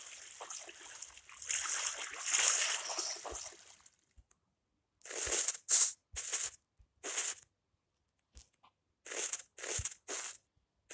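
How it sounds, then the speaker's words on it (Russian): Splashing and sloshing water after falling in, in the video game Minecraft, a long rushing splash followed by several short separate splashes and drips with quiet gaps. "О, я в воду упал."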